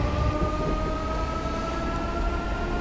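Electric Class 314 multiple unit in Train Simulator 2019 pulling away on the West Coast Main Line North route out of Glasgow Central, a steady loud rumble with sustained tonal traction motor whine, no talking.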